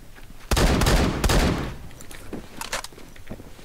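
Shots from a DBV 12 shotgun in the video game Phantom Forces: two loud, close blasts in quick succession, then fainter scattered shots and clatter trailing off, no voices.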